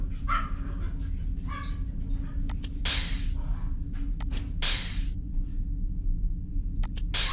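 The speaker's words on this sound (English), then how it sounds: "My dogs are barking." Several dogs bark in a video game scene: sharp, loud barks come in short bursts with a couple of longer bright swishes between them, over a steady low rumbling ambience, with no talking.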